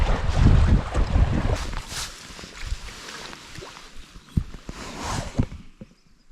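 Gusting wind buffets the microphone over choppy water while paddleboarding in Knoydart, with loud rumbling wind noise and splashing waves around the board, easing toward the end.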